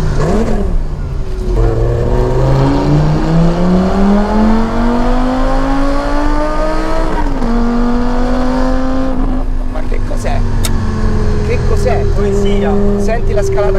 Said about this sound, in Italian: Senti la scalata qui.